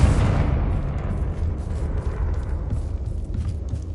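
A Confringo spell bursts in the game Hogwarts Legacy, a loud, close explosive blast that opens hard and then rumbles and crackles away as the debris settles.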